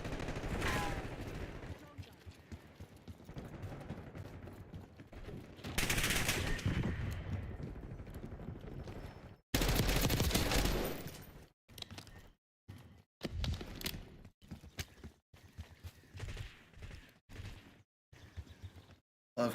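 Rapid automatic gunfire and single shots in a Call of Duty: Black Ops 6 multiplayer match, loud and dense in bursts with abrupt gaps, partly under excited commentary from a player.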